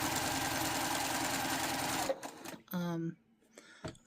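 A sewing machine stitches a seam on fat quarter fabric, running in a steady, close, loud whir for about two seconds, then stopping into short mechanical bursts with a voice talking over them.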